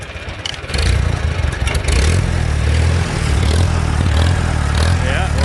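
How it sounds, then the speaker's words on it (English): A small engine fitted with a Chinese carburetor runs close and loud, its note rising and falling in an uneven surge as the governor hunts. "we're right back to the old governor surge"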